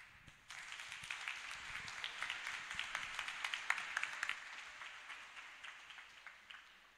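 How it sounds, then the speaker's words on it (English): Church congregation clapping in applause for a preacher at a Sunday service, a dense crackling patter that starts abruptly and holds steady at moderate volume, with no talk over it. "Let us appreciate Wachira again with a clap."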